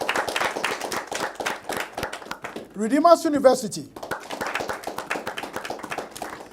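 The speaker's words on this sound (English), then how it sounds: "University of Lagos, a round of applause," Brisk applause from a studio audience at a regional accountancy quiz game show as university teams advancing to round two are announced; fast, close clapping continues around a man's announcement.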